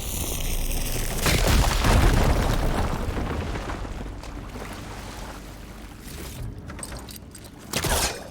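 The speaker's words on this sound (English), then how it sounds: "Should be able to blow up that fire gleam." A firegleam blown up in Horizon Forbidden West: a deep, rumbling explosion bursts after a second and rolls on for several seconds before fading, with a smaller crackle late on.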